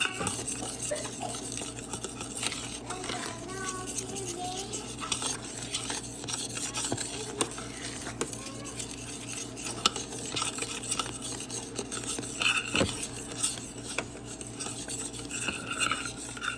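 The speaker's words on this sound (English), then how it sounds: "So you want to continually stir this." Chocolate pie filling stirred continually in a pot, soft repeated scraping and occasional light clinks of a spoon against the pot, steady and fairly quiet, no talk.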